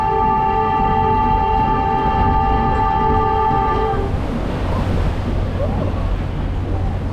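A Boston amphibious duck boat sounds a loud, sustained horn for about four seconds, then a heavy rushing, churning wash of water and engine noise takes over as it drives down into the water.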